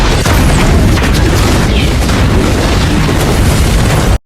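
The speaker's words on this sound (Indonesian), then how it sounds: "terjadilah ledakan akibat terbakarnya cairan kimia pasca baku tembak yang terjadi" A loud, sustained explosion of burning chemicals after a gunfight, with dense crackling debris that fills the whole stretch and then cuts off abruptly.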